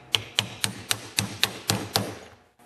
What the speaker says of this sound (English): tap it in with my brass hammer